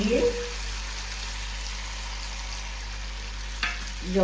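Curry paste and water cooking in a pan for fish masala give a steady soft sizzle and bubbling throughout, with brief louder clatters near the start and end.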